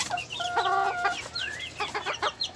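Hens in a backyard coop cluck and cackle up close in quick overlapping calls, with a few rising squawks over a faint background hum.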